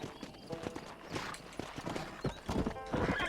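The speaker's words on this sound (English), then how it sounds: "Horse." Horse hooves clip-clopping with occasional neighing in the Red Dead Redemption video game, a steady rhythmic trot mixed with game ambience and busy background sounds, fairly loud throughout.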